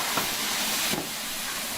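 Stanier 8F steam locomotive in the Train Sim World 5 video game gives off a steady, close steam hiss with broadband rushing noise, two soft puffs standing out briefly within the continuous hiss.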